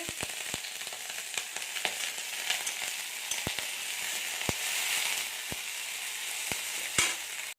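Capsicum frying in a pan with vinegar: a bright, continuous close sizzle punctuated by sharp spattering pops at irregular intervals, with no talking.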